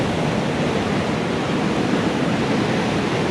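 Ocean waves break at a crowded surf beach in Nicaragua, a dense, steady roar of surf that fills the whole stretch with no voices.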